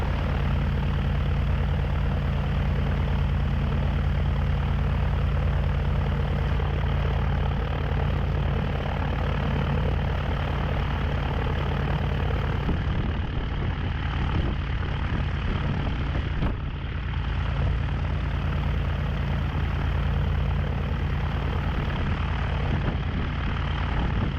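A Piper PA46 Malibu engine drones loudly and steadily while the plane taxis, a constant propeller hum close up with barely any change throughout.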